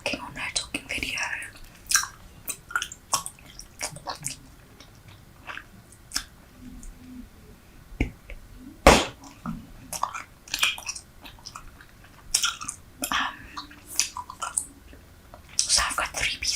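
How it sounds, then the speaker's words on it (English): Three pieces of bubble gum are chewed right against the mic, making wet, sticky smacks and pops in an irregular rhythm with soft whispered talk in between. "So I've got 3 pieces of gum in my mouth."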